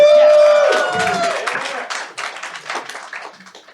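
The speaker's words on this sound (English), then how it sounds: "Big round of applause." Audience at a 3D magic show bursts into loud, dense clapping after a brief tone, the applause thinning into scattered claps toward the end.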